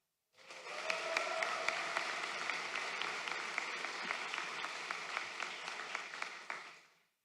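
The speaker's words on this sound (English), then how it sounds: "I think another round of applause." A large crowd at a commencement for the graduating class of 2024 bursts into applause that rises quickly, holds as a broad, even wash of clapping for several seconds, then tapers off.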